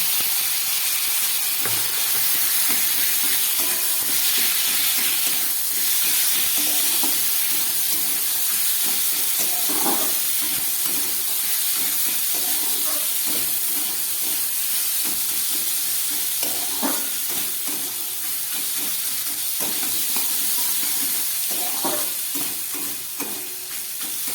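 Chana dal being stirred and fried in hot spiced oil while making dal puri, with a steady close sizzle and hiss broken by repeated scraping stirs, with no voices.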